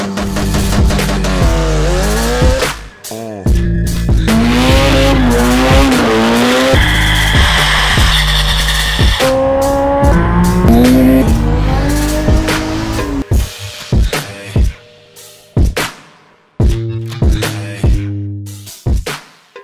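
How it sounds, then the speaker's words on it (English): A K20 supercharged Honda S2000 race car drives hard, its engine loudly revving up and down through repeated gear changes with tire squeal, closing with short sharp blips and pauses. "This is the race car for 2018."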